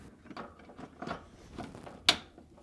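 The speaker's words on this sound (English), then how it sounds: "using a quarter inch nut driver, remove these two screws" A quarter inch nut driver backs screws out of a Whirlpool French door refrigerator's freezer fan panel, with repeated faint ratcheting clicks and scrapes in a steady rhythm, close up and quiet, ending with one sharp metallic click.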